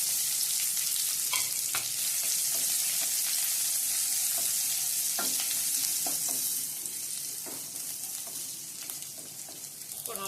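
Onions frying with curry leaves in hot oil for a beans poriyal, a steady loud sizzle with occasional stirring clicks and scrapes that eases slightly toward the end.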